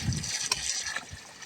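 Water trickles and gushes into a hand-drilled borehole on a high mountain, a soft, continuous pouring with small splashes, fairly quiet and close.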